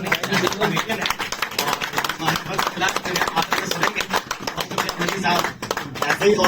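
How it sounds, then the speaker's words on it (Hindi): An audience at a poetry gathering claps for a performer, with dense, quick, continuous applause and talk and cheering mixed in. "एक बार तालियां बजाइए मनीष के लिए"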